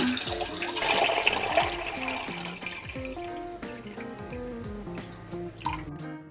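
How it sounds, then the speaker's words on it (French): Water pours into a container being weighed for soap making, a close, gurgling, dripping stream with a rising trickle, quiet and without talk. "Maintenant, on pèse la quantité d'eau requise."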